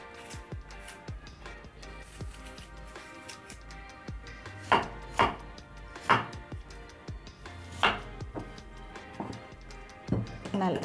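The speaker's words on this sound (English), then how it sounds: "So I'm chopping them into medium size." Knife strikes chopping peeled apples into medium pieces on a cutting board at an uneven pace, some cuts louder than others, close and fairly quiet, with occasional handling noises between them.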